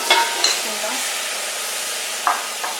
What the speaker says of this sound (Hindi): 5 मिनट के लिए इसे भूनते हैं